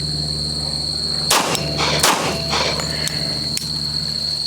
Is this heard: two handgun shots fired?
yes